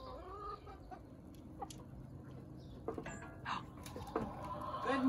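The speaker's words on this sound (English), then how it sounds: "Good morning, chickens." Backyard chickens clucking at morning feeding time, a scatter of short clucks and low murmurs over a steady outdoor hum, close and moderately loud, with no talking.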